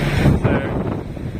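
Strong wind buffets the microphone at a boatyard where a crane is lowering a sailboat's masts, a loud continuous low rumble with gusty swells throughout.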